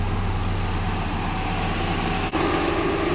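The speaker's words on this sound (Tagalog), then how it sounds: "binuhay ko na yung makina ng sasakyan, tapos naka-on na din yung aircon natin" A Toyota Corolla engine idling with its air conditioning running, a steady dense hum and whir with a brief dip partway through, loud and continuous, no voices.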